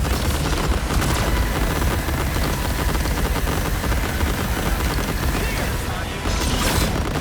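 Rapid rocket barrages and explosive gunfire from the Marvel Rivals video game battle, a dense, loud, continuous volley of blasts and mechanical whirring lasting throughout, with game voices calling out over the action.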